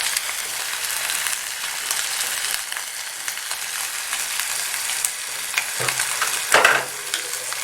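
Tomatoes go into a hot pan of beef and rice, and a continuous sizzle and frying hiss is stirred with a few scraping clatters toward the end; close and steady, with no talking.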